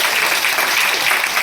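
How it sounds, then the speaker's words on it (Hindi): Loud, dense applause from an audience fills the whole stretch, a steady roar of many hands clapping with no clear gaps. "मैं चाहूंगा इसके लिए जोरदार ताली"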